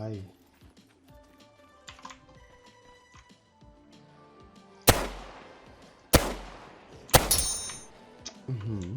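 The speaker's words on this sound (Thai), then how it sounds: "เสียงปืน" Three loud gunshots from the video game OutlawZ ring out near the end, sharp and spaced about a second apart, after a stretch of quieter clicking and game-like tones.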